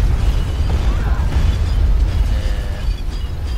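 Orbital bombardment in Star Wars: Empire at War lands as a loud, sustained rumble of deep booming explosions, rolling continuously with faint whistling streaks above it.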